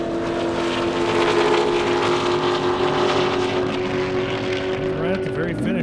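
Race cars scream down an airstrip in a drag race, a loud, continuous engine roar with rising and sweeping pitch as they speed past, while an announcer talks over it.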